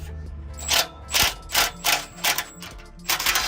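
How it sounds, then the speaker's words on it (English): Ratchet loosening bolts on exhaust headers of a cammed 5.3L Silverado during a longtube header swap, heard as a series of bursts of clicking, roughly six separate strokes at close range with no talking. "just finish taking the bolts off, and then this should start coming right on out"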